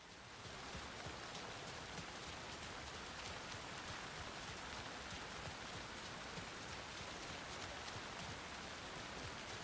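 Steady rain falls in the video game Alan Wake 2, a dense, even hiss of drops on surfaces that continues throughout at moderate level with no voices.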